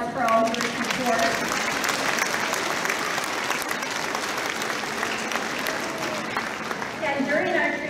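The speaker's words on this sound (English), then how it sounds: "Let's give everyone a round of applause for all of your support" A concert audience at a school pops concert applauds steadily throughout, a dense wash of clapping with some faint voices and tonal sounds near the start and end.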